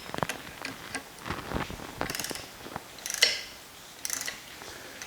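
A wrench tightening bolts on a Porsche 911SC crank assembly, heard as close, quick bursts of metallic ratcheting clicks in short irregular spurts with pauses between them.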